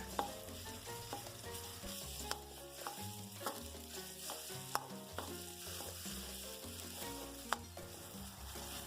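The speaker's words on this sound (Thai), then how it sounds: "เราก็จะใส่น้ำมันลงไปเล็กน้อย แล้วก็จะผัดพริกแกงไปเรื่อยๆ ค่ะ" Thai curry paste is stir-fried in a little oil, a faint steady sizzle with occasional stirring taps running beneath background music.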